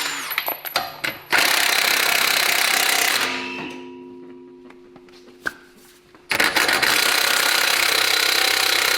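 Power tool loosening and removing wheels from a wrecked Lamborghini Urus in a garage, loud broadband buzzing bursts at the start and end with a quieter, calmer stretch between them.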